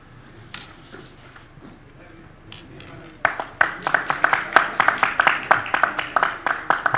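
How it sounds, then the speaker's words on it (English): An audience at the Sagarmatha Sambaad forum breaks into sustained applause. The clapping is loud and dense after a quieter stretch of scattered sounds and light movement. "kindly give a big round of applause"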